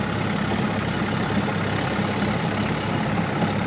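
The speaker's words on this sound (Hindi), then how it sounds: "और ट्रैक्टर भी वहाँ पर चल रहा है।" Tractor engine running steadily in a farm field during planting work, a continuous mid-to-low rumble with a faint high whine, moderately loud and unbroken, no voices.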